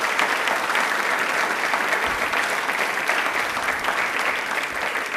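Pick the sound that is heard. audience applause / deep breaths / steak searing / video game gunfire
audience applause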